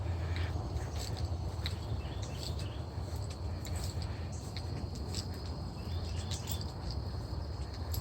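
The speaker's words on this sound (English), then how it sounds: "And the birds are still just chirping away." Birds chirp in a swampland bird sanctuary, scattered faint tweets over a dense, constant bed of insect buzzing, with no voices.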